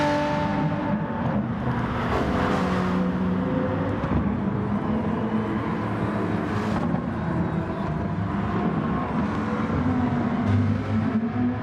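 Race car engines roar steadily through a GT Sport online daily race at Willow Springs, including a Lamborghini, a continuous droning engine bed with passing swells and no talk.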